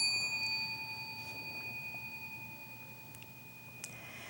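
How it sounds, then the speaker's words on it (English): A small bell is struck once and rings with a clear, pure tone that slowly fades over several seconds in a quiet room. "And we'll ding this little bell."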